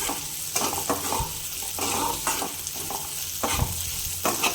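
Cashews and almonds sautéed in ghee, a close sizzle broken by repeated spatula stirring and scraping strokes against the pan in an uneven rhythm.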